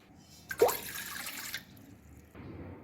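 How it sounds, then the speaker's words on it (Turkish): Lukewarm water poured into a glass for bread dough, a brief splashing pour near the mic lasting about a second, followed by quiet dripping. "Hamurumu yoğurmak için 1 su bardağı ılık suyunu alıyorum."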